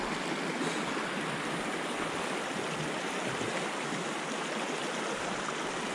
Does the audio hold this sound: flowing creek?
yes